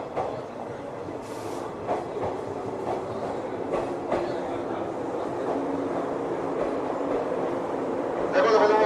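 The sleeper limited express Izumo bound for Izumo-shi arrives at a platform of Yokohama Station, rail cars rumbling and clacking over the tracks as a steady close roar, with station announcements sounding over it.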